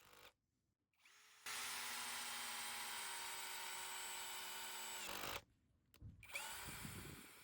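A Parkside or Durofix 12V cordless drill on low speed drives an 8x120mm screw in one long steady whine of about four seconds, then stops, followed by brief clatter and a short restart.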